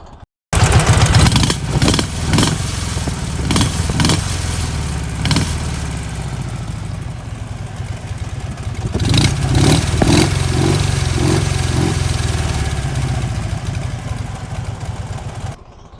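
A Dnipro (KMZ) motorcycle engine runs loudly up close, idling with repeated sharp revs early on and again later, steady rumble in between, no talking.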